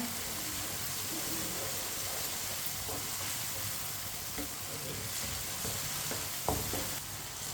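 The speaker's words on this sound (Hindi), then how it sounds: "अब टमाटर को भी 2 मिनट के लिए पका लेंगे।" Tomatoes fry in a pan, stirred for a couple of minutes. A continuous sizzle and hiss runs under occasional scraping stir strokes, with one sharper knock near the end. There is no speech.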